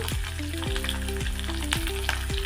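Garlic, green chilies, coriander seeds, sesame seeds and curry leaves fry in hot oil for a Telugu cherry tomato chutney, giving a steady close sizzle and crackle that runs beneath prominent background music.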